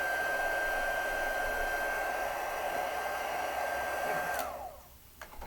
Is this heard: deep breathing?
no